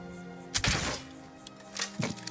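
Crossbow shot in the fantasy video game Skyrim, a sharp thunk with a quick snap, followed by a second, softer impact a moment later.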